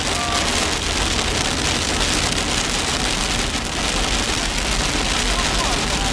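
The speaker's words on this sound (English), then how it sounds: "That's definitely hail." Hail pounds on a car in summer, a dense, loud, unbroken rattle of hard pellets drumming on metal and glass from inside the vehicle.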